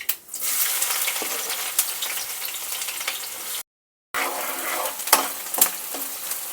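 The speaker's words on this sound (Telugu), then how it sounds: "ఇప్పుడైతే ఆనియన్స్ వేసుకుంటున్నాను" Sliced onions hit hot oil with mustard and cumin seeds for a mutton curry, sizzling and crackling steadily up close, with a short silent break and a few stirring scrapes after.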